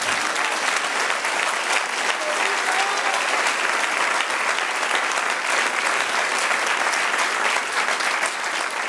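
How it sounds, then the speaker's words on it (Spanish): A church congregation applauding, with dense, steady, loud clapping from many hands that fills the whole stretch and never breaks. "Den un aplauso al Señor."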